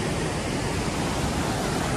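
Rushing river water on the Hemkund Sahib trek: a dense, loud, continuous roar of fast-flowing water close by, with no voices.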